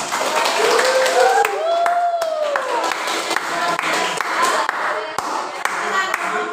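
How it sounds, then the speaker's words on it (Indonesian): Students in a biology classroom clap for a presenting group, giving a dense ripple of hand claps. Voices chatter through it along with a few whistle-like tones. "Beri aplaus dulu untuk kelompok"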